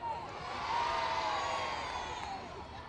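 Crowd at an outdoor 1989 closing ceremony for a children's camp in Piedmont Park, Atlanta, cheering and whooping steadily for about three seconds, a broad wash of voices swelling slightly in the middle and fading a little toward the end.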